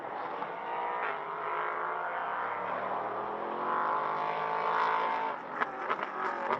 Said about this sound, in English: sound of the cars through turn 13 and 14 is spectacular